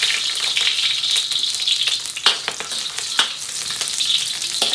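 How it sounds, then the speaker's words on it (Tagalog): Shrimp paste sautéed with garlic and onion in a pan, a steady close crackling sizzle with a few sharper pops and stirring scrapes, no voices. "Magigisa muna tayo ng alamang."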